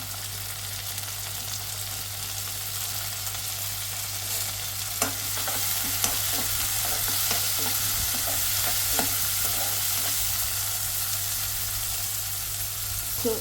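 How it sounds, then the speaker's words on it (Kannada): Onions frying in oil until lightly brown sizzle steadily with a bright hiss, broken by occasional spoon taps and stirring scrapes against the pan, over a constant low hum. "ಸೊ ಇದು ಲೈಟಾಗಿ ಬ್ರೌನಿಷ್ ಬರೋವರೆಗೂ ಸ್ವಲ್ಪ ನಾವು ಫ್ರೈ ಮಾಡ್ಕೊಳ್ಳೋಣ"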